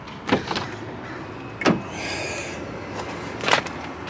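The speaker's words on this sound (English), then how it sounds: "Let's see if I could get this door open." Door handling on a manual BMW 335xi E92 coupe, with three sharp mechanical clunks and latch sounds spaced apart, a brief whir between them, close and moderately loud.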